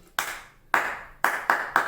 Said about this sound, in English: So the next one is where I use rhythmic claps.